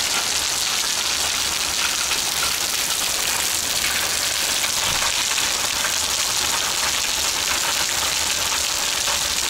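Heavy downpour drums steadily and loudly during outdoor car repair work, a continuous wash of hiss with a faint low rumble underneath and no speech.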